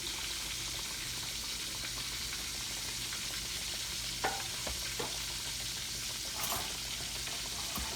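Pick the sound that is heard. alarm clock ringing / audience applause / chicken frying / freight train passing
chicken frying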